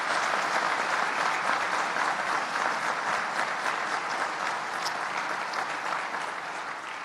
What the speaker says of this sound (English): I want to give them again another round of applause.